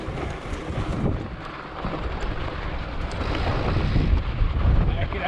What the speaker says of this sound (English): That wind is just rifling right up the canyon.